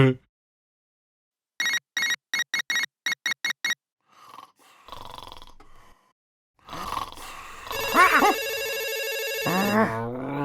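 A rapid series of short electronic buzzes rings out in bursts, followed by grunting voices and a louder tonal ringing over talk.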